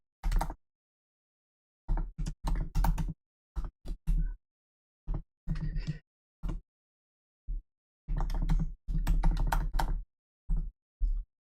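Computer keyboard typing code, scattered clusters of close, crisp keystrokes separated by short silent pauses, with one longer burst of rapid clacking near the end.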